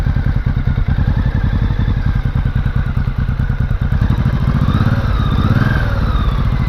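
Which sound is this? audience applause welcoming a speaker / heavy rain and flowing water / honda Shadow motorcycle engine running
honda Shadow motorcycle engine running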